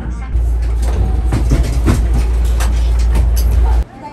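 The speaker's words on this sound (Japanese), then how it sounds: "さて特急電車は間もなく終点の大阪梅田駅に到着します。" A Hankyu limited express electric train pulls into Osaka Umeda station, giving a steady low rumble with brief squeals and clanks that cuts off abruptly near the end.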